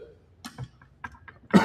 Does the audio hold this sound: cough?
yes